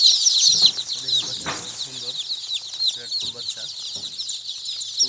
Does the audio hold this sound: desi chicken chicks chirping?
yes